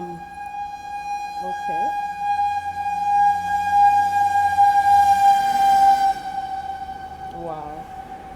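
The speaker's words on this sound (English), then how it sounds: "oh, I hear an ambulance." An ambulance siren passes by outdoors, a loud sustained wail that rises and lingers for several seconds before fading, with a brief spoken word near the end.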